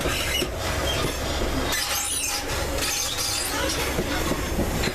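An old, noisy train rolls along loudly, a dense rumble and rattle of carriages with clattering wheels and metallic screeches, continuous and close throughout with no talking.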